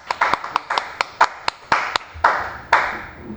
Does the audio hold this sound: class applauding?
yes